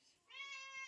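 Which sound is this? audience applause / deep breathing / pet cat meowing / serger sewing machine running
pet cat meowing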